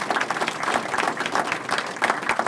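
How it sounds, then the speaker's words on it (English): An audience at a budget address applauding a chairman, a steady wash of many hands clapping that stays even and fairly close throughout. "How about a round of applause for Steve?"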